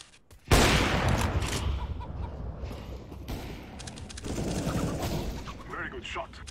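Rapid gunfire from an SG 553 rifle in a CS GO match, a sharp onset followed by dense bursts of shots with a second loud volley later, close and harsh over game ambience.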